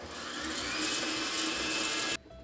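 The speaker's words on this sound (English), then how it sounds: "Mix them all together until they're combined" An electric mixer whirs steadily at moderate volume while combining gluten-free oatmeal raisin cookie dough, then stops abruptly near the end.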